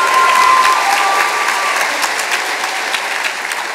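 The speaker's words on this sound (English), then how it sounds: "Let's give them another round of applause" Audience at a University of Minnesota MCAE Celebration of Achievement applauds steadily and loudly for the full stretch, a dense wash of clapping that eases off only slightly toward the end.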